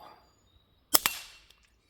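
A LifeCard pistol fires at a target, heard as two sharp, close cracks in quick succession with a short ringing decay after them and a faint click following.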